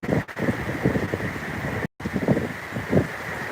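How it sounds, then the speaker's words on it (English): Hurricane wind gusts batter the microphone in a steady rough rumble with brief louder surges and a momentary dropout, and no voices over it. "here we're just getting the gusts. I'm sure you can hear it in the microphone."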